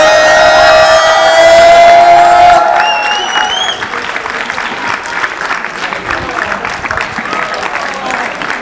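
After music cuts off, a rap battle audience breaks into sustained applause and cheering, a dense crackle of claps that holds steady and fairly loud to the end.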